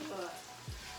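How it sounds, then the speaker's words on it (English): Chicken and vegetables sizzle in a pan, a short, soft, steady hiss close by, with a voice speaking over it. "Sizzle, sizzle, sizzle."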